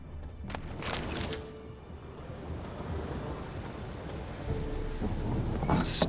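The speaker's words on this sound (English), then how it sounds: "A storm. Damn it." A thunderstorm in the game The Witcher 3, with a steady wash of rain and low rumbling thunder that swells at moments across the whole stretch.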